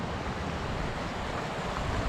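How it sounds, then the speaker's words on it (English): Strong wind gusting steadily across an exposed trail on a difficult mountain hike in Glacier National Park, a continuous broadband roar with microphone buffeting and no voices. "It is pretty windy today."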